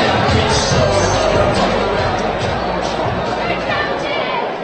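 A large crowd of nearly 2,000 people chatters at a boxing event in the Melbourne Pavilion at Flemington, a dense, loud, continuous hubbub of overlapping voices filling the hall.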